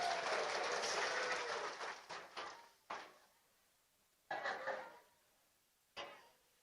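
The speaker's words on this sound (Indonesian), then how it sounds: "Tepuk tangan dulu dong." A crowd at a religious gathering claps in a loud, dense burst of applause that fades out, followed by a few shorter scattered bursts of clapping.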